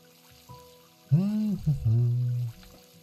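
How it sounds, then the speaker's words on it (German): Water pours from a watering can onto potatoes in the Doraemon Story of Seasons farming game, a soft splashing pour lasting about a second and a half after a brief tone, with no talking. "Das sind, glaube ich, Kartoffeln hier, die ich gerade gieße."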